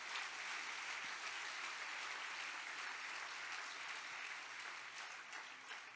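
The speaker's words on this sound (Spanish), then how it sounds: "Dale ese fuerte aplauso al Señor Jesucristo." Church congregation applauding during a Spanish-language sermon, a continuous wash of many hands clapping, distant and faint, even and sustained throughout with a low steady hum beneath it.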